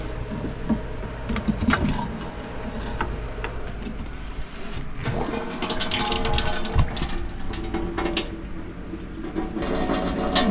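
Raw seawater emptied from a watermaker hose aboard a sailboat during membrane repair, a continuous gurgling, splashing trickle with rattling and handling noises nearby, fairly steady throughout.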